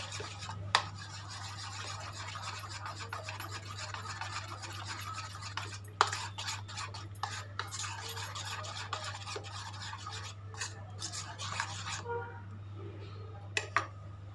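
A spoon stirs thick moong dal paniyaram batter mixed with curd in a bowl, with repeated wet scraping strokes and occasional clinks over a low steady hum.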